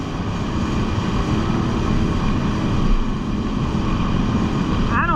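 A Yamaha Superjet stand-up jet ski engine drones steadily and loudly under throttle on the water, a continuous close roar across the whole stretch.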